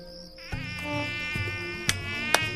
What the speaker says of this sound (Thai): เมื่อถูกฝูงยุงรังควานมากๆ